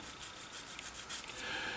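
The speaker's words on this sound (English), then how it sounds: "this is the sanding stick's removing it just fine." Steady scratchy rubbing of a sanding stick on a hard plastic model kit part, in quick back-and-forth strokes, close and fairly quiet.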